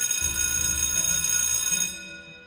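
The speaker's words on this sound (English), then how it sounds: "I don't care about that bell ringing." A classroom bell rings continuously, loud and sustained, as a bright metallic tone that cuts off near the end and leaves a dull low background hum.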